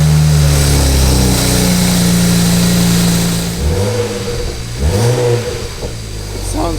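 BMW 335i with the N54 twin-turbo engine fires up for its first start after work, a loud continuous engine roar that settles toward idle, with ticking injectors in the mix and voices in the background.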